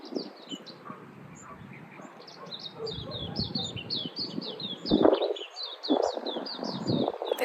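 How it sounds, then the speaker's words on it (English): Many birds chirp and tweet from a tree in repeated short calls, moderately close and fairly faint, with light rustling and handling noise underneath. "Can you hear the birds? There's so many birds."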